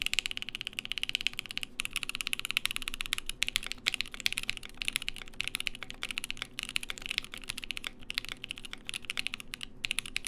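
Close, steady typing on a custom-built Voice65% mechanical keyboard with a 65% layout. The keys click in a fast, continuous rhythm for the whole stretch with no talking.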